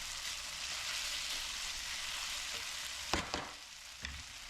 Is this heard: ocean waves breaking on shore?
no